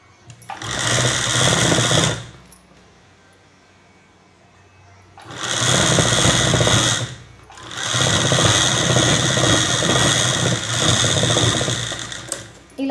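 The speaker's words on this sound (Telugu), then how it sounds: "అవి ఇలా పెట్టుకొని ఇక్కడ నుండి స్టిచ్ చేసుకురావాలి ఫస్ట్" An electric sewing machine stitches cross straps onto cloth in three loud, fast runs, separated by brief near-silent pauses, close to the listener.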